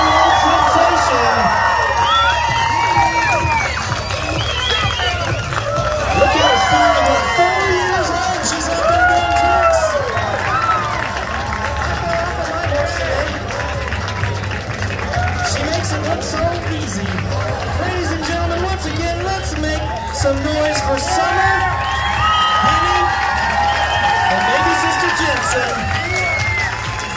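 A crowd at the Valencia County Fair in Belen, New Mexico cheers for a young trick rider: loud, sustained shouting, whooping and cheering with children's voices and scattered clapping, continuous throughout over a low rumbling background.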